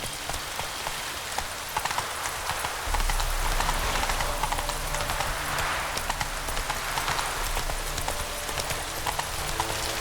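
Horse hooves clip-clopping at a steady running pace in The Witcher 3 video game, continuous and fairly close, with rain pattering over everything and a low rumble joining after a few seconds.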